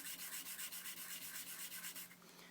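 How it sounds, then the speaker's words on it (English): A nail file rubs rapidly back and forth across a SIM card to thin it, making quick, even, close scraping strokes that stop near the end. "you can either use the nail file, like this"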